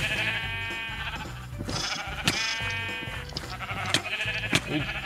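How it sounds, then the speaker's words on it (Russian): Sheep bleat repeatedly in the Minecraft Sheep Quest mini-game, several drawn-out game-style calls layered over a steady background of looping game music and sound effects, with sharp clicks punctuating them. "Моя овца."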